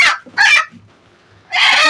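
An Egyptian hen lets out two quick sharp squawks, goes briefly quiet, then gives a longer harsh cackle, all close by.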